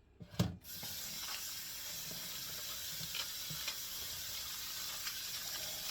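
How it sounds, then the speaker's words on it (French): A cabbage rinsed under a running kitchen tap, a steady close rush of water filling the sink after a brief clatter at the start. "On va laver bien notre chou."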